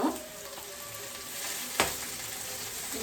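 Fenugreek leaves frying in hot oil for chicken biryani, a continuous soft sizzle with a single sharp clink of a stirring spoon partway through.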